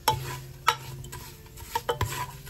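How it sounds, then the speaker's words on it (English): Beans with garlic powder are stirred in oil in a pan for vegan charro beans, with a few close clinks and scrapes of the utensil against the pan over a faint sizzle, and no voices. "And I'm gonna stir this up."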